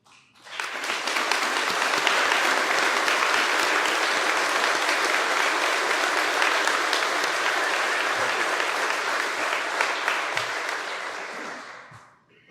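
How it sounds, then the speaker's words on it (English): Sustained applause from a seated audience honoring veterans and police at a recruit class graduation ceremony, swelling quickly, holding steady and loud for about ten seconds, then fading out. "we gave them a round of applause"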